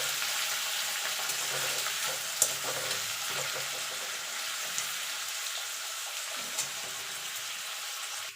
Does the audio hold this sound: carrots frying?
yes